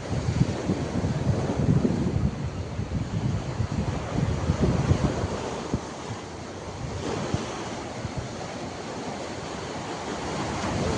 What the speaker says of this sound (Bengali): খুব ভালো লাগে সমুদ্রের ঢেউ, বাতাস